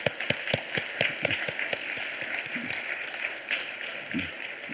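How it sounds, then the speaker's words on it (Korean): A church congregation applauds during a Sunday worship service, with steady, dense clapping through the whole stretch and no speech over it. "우리 박수로 우리 축복하겠습니다"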